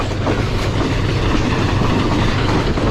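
Green Line Express passenger train running at speed after leaving Mankiala station, a loud, steady rumble with rhythmic clickety-clack of wheels on rail, heard from inside the carriage without pause.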